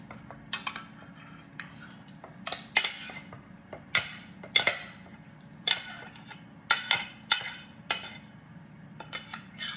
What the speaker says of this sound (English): I'm gonna go ahead and grab a spoon and put this in the pot.